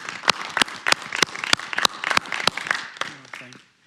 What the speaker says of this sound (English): Let's begin with a round of applause for this man.